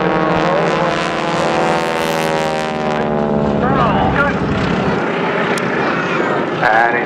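Display aircraft of the Breitling WingWalkers team roar loudly overhead at an airshow, a continuous droning propeller engine sound that shifts in pitch as they dive and turn, with a commentator talking over it.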